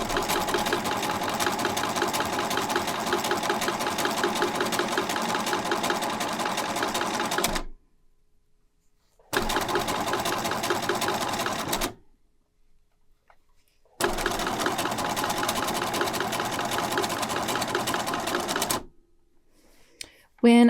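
Sewing machine stitching a heart-shaped tooth fairy pillow, a loud rapid mechanical whir running in three long bursts separated by short silent pauses, with a few stray clicks at the end.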